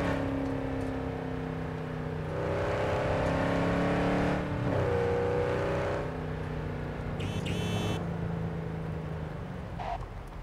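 A Quadra Type 66 Javelina car in a video game driving a hill climb near Lake Farm, engine revving up and down through gear changes, steady and close, with a brief rattling burst partway through.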